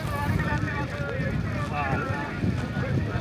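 Strong wind buffets the microphone in a constant roar at the Osaka Expo 2025 grounds, with talk layered over the blustery noise throughout.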